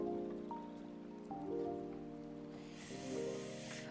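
Rain falling in Disney Dreamlight Valley, a soft hiss under a gentle game music bed, swelling into a brighter, louder wash of spray near the end.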